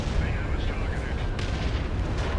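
Rocket explosions in the real-time strategy game Dawn of War 2, a continuous dense rumble of blasts and bursts with a voice speaking over the battle noise.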